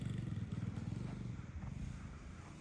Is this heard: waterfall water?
no